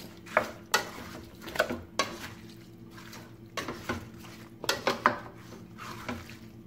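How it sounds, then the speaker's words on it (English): About six quarter-leg chicken thigh pieces cook in a pan while being stirred, with repeated close scrapes and clatters of the utensil against the pan over a low background, and no voices. "quarter leg thigh chicken pieces that I'm just going to cook a little bit until it turns a white color."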